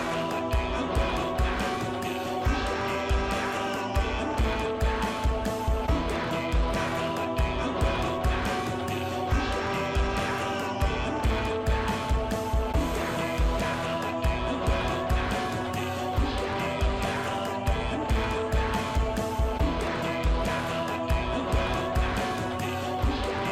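Song from the My Singing Monsters video game: a dense, layered ensemble of many monster voices and instruments over a steady driving beat, continuous and full throughout, sounding grand like a finale.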